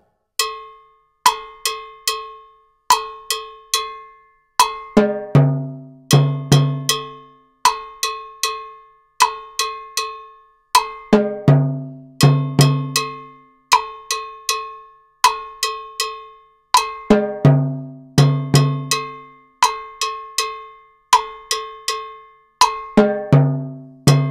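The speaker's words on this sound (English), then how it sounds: "The last two strokes you can play also on your bell together with the low timbal." A steady, repeating pilón percussion pattern of bright cowbell strikes mixed with deeper low timbale hits, played alone at a moderate tempo.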